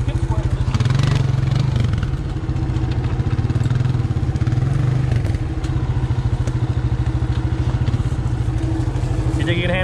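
A four-wheeler ATV engine runs nearby at a steady, throbbing idle with occasional rattles and thumps, rising slightly in places, while people speak in the background.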